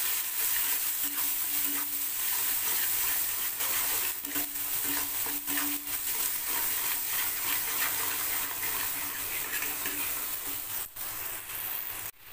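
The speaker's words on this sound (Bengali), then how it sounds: "নুন, দেব হলুদ গুঁড়ো, লঙ্কার গুঁড়ো দিয়ে এটাকে আমি একটু ভালো করে কষাতে থাকবো" Onion fries with turmeric and chili powder in a pan for a tilapia curry, giving a steady, close sizzle with occasional stirring scrapes throughout.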